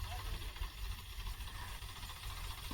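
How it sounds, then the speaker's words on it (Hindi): An electric water pump motor on a farm, filling tractor-drawn tankers, hums faintly and steadily in the background, with someone talking over it. "चल रही है हमारी मोटर, ये देखो।"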